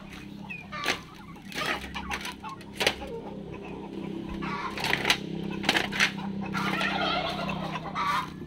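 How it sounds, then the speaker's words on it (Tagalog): Native chickens, a silky chicken among them, cluck and gobble-like call in short bursts at close range, against a low background hum and faint voices now and then. "Ito may silky chicken."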